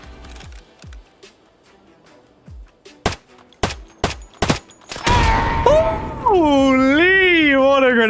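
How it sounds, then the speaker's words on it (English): An M67 grenade goes off in a video game: a scatter of sharp bangs leads into a loud, sustained blast, followed by an excited voice shouting over the noise. "Holy, what a grenade"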